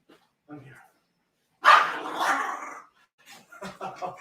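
A dog gives a loud, close bark and some soft whimpers, with a person talking around it.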